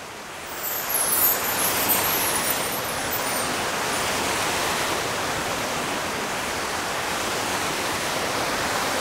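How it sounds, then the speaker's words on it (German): River water rushing and falling at 3000 liters per second past water wheels, a constant loud broadband roar that swells in within the first second and holds steady, no voices. "3000 Liter pro Sekunde rauschen hier runter."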